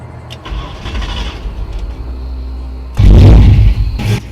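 An old blue sedan pulls away, its engine rumbling steadily up close before a sudden louder, rougher surge of acceleration near the end.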